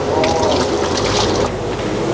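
Old coffee being dumped out in a nursing home kitchen, a loud continuous pour of liquid splashing and gushing close by, easing slightly near the end.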